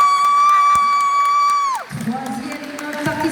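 An audience at a cosplay contest in Pau cheers and claps for a League of Legends Soraka cosplayer, a crowd swell breaking in after a long sustained tone that slides down, with shouts over scattered clapping.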